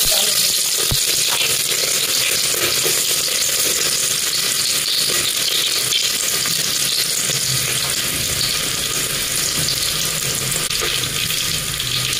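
Onions fry in hot oil for an Indian mixed dal, giving a steady, dense sizzling hiss that stays loud and even throughout, with no talking.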